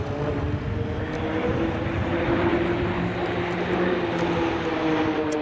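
Roulettes aerobatic aircraft of the synchro pair fly their synchro manoeuvre at an airshow, heard as a continuous droning engine roar with a steady tone, moderately loud and sustained throughout.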